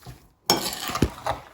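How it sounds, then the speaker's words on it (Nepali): A spoon stirs a strawberry jam mixture with half a lemon in a bowl, a short scraping clink after a brief pause, followed by a few wet scrapes and taps, close and clear with no talk. "एकदम राम्रोसँग मिक्स गर्नुपर्छ"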